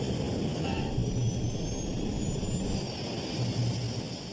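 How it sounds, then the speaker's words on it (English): The Qantas Flight 32 jet airliner rolls fast down the runway after landing, a steady loud roar of jet engines and rushing noise with a high whine above it, continuous and unbroken, with no voices. "The plane is gobbling up 80 meters of runway every second."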